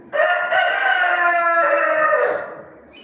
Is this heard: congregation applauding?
no